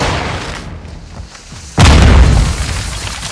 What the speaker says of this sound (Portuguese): Jogando granada no fumaça!